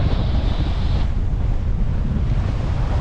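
Wind at 18 knots buffets a sailboat crossing a lumpy sea off Scotland, a loud steady rush of wind noise over the wash of waves against the hull, with no talking.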